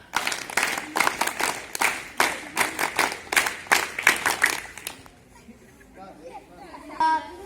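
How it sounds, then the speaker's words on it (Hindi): An audience at a Republic Day cultural programme claps along in rhythm, a run of sharp, loud group claps that stops abruptly, followed by a quieter stretch with a voice and a little crowd chatter. "इस बार वेरी गुड, ताली बजाएंगे।"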